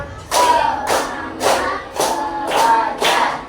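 Five bursts of group clapping from children in a classroom clap game, steady and evenly paced, each a loud ragged volley close by and followed by a short gap.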